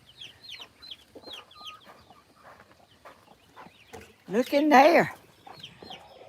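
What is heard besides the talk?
hen clucking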